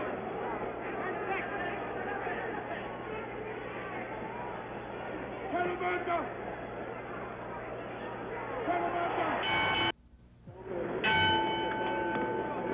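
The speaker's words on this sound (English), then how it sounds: "The bells for round 7." A boxing ring bell at the San Diego Sports Arena marks the start of round seven of Ali versus Ken Norton in 1973. It rings out briefly over loud crowd hubbub and commentary, and a short sharp break comes just before it.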